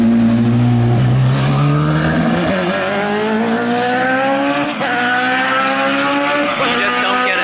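A two-seater IndyCar race car drives loudly at Pocono, its engine whining steadily upward through the gears with tire noise, close and continuous.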